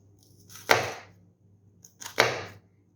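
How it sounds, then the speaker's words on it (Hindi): A knife chops onions on a board with two distinct crisp strokes about a second and a half apart, close and clear with near silence between them. "तो सबसे पहले हम अपना प्याज कट कर लेंगे।"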